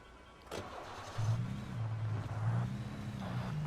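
A car engine in Alan Wake Remastered cranks with a short sharp catch, then settles into a steady, close, low rumbling idle that continues to the end.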